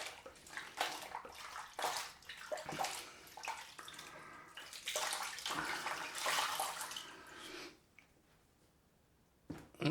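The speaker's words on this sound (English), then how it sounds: "Just going to wash this cloth off." A cloth is rinsed under running tap water at a sink during a straight-razor shave, with splashing bursts of flow that swell and ease for about eight seconds before stopping, then a brief final splash.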